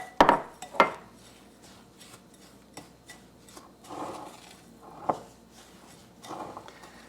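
A spoon stirs melted butter into sugar for a crust, with a few sharp clinks against a bowl at first, then soft scraping and rubbing strokes that come and go at a close, quiet level.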